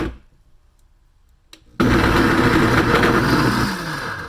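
A Pampered Chef deluxe cooking blender shredding cheese roars to life abruptly after a quiet moment, its loud motor whirring steadily for about two seconds before easing slightly as the cheese breaks down.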